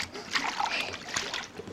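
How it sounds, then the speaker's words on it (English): A small child splashes water in a swimming pool, a short burst of close, bright splatters and trickles with faint voices around. "Now, let's try splashing."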